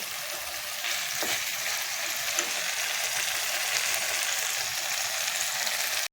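Onion masala sizzles in a pan as a little hot water is poured in for a spring onion vegetable dish, a dense, even crackle and hiss that keeps steady throughout with no talking.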